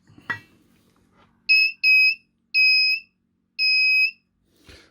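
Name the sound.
kit-built metal detector sounding its tone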